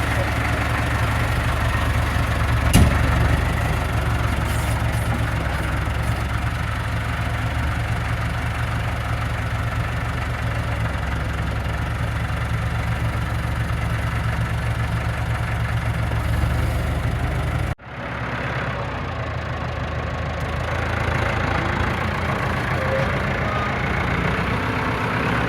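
A tractor engine idles steadily while holding a raised 17 ft wide disk, a low, constant rumble with one brief dip before it settles back to the same drone.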